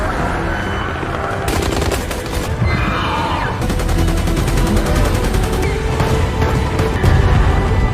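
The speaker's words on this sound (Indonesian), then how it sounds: "Kolonel yang sudah membawa persenjataan lengkap pun langsung menembaki para raptor yang datang mendekat" Film gunfire as a colonel shoots at approaching raptors: loud, dense bursts of automatic fire in rapid rattling runs over a rumbling action-scene background, continuing almost without pause.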